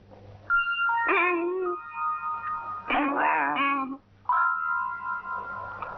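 A dog whines and yelps in several short, high-pitched, wavering bursts with brief pauses between them, heard close and fairly loud.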